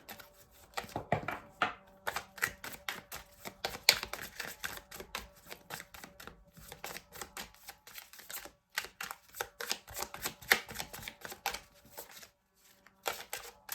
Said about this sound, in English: it's hard to shuffle them all together